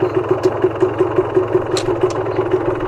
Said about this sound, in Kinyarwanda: Imaze gushyiramo vitesse ya mbere, ubu ngubu ni uko moto yagahagurutse ikagenda.